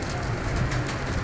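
Young Parwazi flying pigeons for sale in Faisalabad coo softly in a brief burst close by over a dense, noisy background hum.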